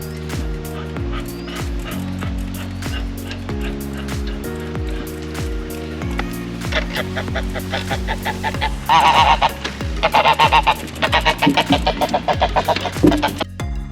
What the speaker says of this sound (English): there are a couple of geese at the bottom